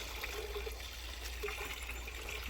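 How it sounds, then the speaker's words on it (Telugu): Liquid, cow urine and jaggery water, pours steadily into a drum with a continuous low gushing and trickling sound, faint and without talking. "ఐదు లీటర్లు మూత్రం వేసుకుందాం అలాగే బెల్లం కూడా మనం వాటర్లో కలుపుకుని డ్రమ్లో పోసుకుందాం"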